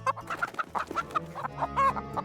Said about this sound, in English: I can hear the cries of chickens and other farm animals in the distance